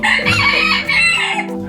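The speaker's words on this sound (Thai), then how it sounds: "เป็นไก่" A rooster crows at a café in Nan, Thailand: one loud, close, drawn-out cock-a-doodle-doo that fills the short moment, with no talking.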